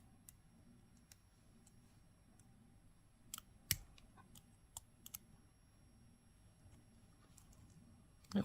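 Small wire cutters snip excess wire while amethyst earrings are made, giving a few sharp, faint clicks over a quiet, steady background.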